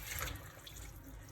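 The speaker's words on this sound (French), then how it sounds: "j'ouvre le robinet jusqu'à ce que c'est rempli le casserole" Tap water runs into a saucepan in a kitchen while spinach is being washed, a steady, soft, hissing rush of water that stays even throughout and is faint.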